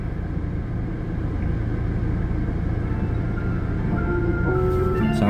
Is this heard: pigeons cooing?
no